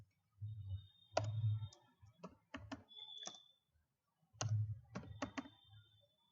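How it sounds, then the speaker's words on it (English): Computer mouse clicks, a few sharp separate clicks spaced irregularly, close and quiet, with a faint low hum between them and no talking. "and click OK. Click OK."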